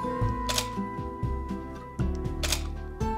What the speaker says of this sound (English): Now let's try this remote timer as just a manual shutter release.